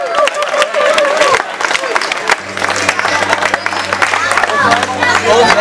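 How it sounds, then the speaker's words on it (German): A crowd at a street demonstration on housing policy in Kreuzberg claps and cheers, dense applause mixed with shouts and babble, while amplified tones hum underneath partway through. "Ein Applaus für Kinder."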